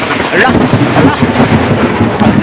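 Loud, close thunder rolls as a continuous heavy rumble with rain-like noise for a couple of seconds, with a voice heard faintly underneath.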